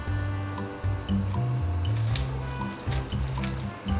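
Olive Garden-style salad tossed with tongs and gloved hands in a bowl, a series of soft wet squishing and rustling sounds at close range, irregular and continuous without talk.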